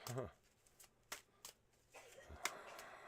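Tarot cards are shuffled in a few quick riffling bursts and soft slaps, close up and fairly quiet, with brief pauses between.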